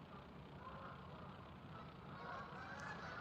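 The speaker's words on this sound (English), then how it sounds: "did y'all hear the geese?" Geese honk faintly in the distance outdoors, their calls thin and intermittent over a broad steady wash of ambient noise.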